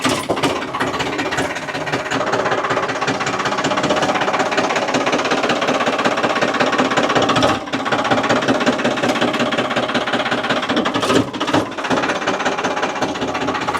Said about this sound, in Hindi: अभी इस पर ट्रैक्टर चढ़ा के देखते हैं।